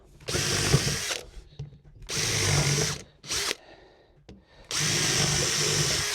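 A power drill whines in three bursts of drilling 6mm clearance holes, separated by short pauses and small clicks, close and loud.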